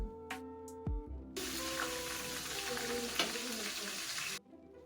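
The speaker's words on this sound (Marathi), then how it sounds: "यात जिरं मोहरी धने ओली मिरची घातली मी आता, आणि कढीपत्ता पण घालणार आहे आता." Cumin, mustard seeds, coriander seeds and green chili tempering in hot oil, a loud steady sizzle that bursts in suddenly and holds for about three seconds before cutting off, with a few clinks of utensils before it.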